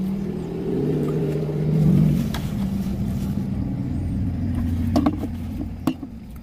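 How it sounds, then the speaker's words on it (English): A vehicle's exhaust rumbles steadily outside an open window, a continuous low drone that swells a little and holds throughout, with a few faint knocks and clicks from the room on top. "Yeah, that exhaust, huh?"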